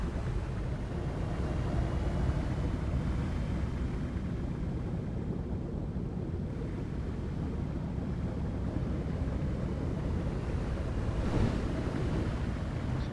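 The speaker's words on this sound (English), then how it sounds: "It's just very deep ocean." Deep ocean ambience in the underwater video game ABZÛ: a continuous low, rushing wash of water that stays even and moderately quiet throughout, with no distinct events.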